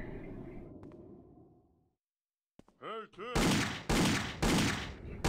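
Gunfire in the video game Indiana Jones and the Infernal Machine, a few loud, close rapid bursts at the end, following quieter game sounds, a brief silence and a voice-like warbling tone.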